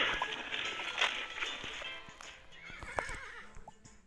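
A horse in a video game gives a loud, clear whinny that rises and falls near the end, set against a busy game soundscape. Other animal and ambient game sounds fill the background, and no one speaks.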